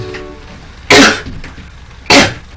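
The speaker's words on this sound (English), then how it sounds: "Now I want you to cough." A person coughing on request during a medical examination, two sharp, loud coughs spaced about a second apart, close to the listener, with faint background noise between them.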